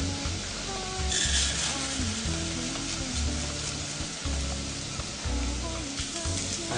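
Chopped leek, about 20 grams, browning in a pan ahead of arborio rice for risotto, giving a steady close sizzle with faint stirring scrapes throughout and no talk.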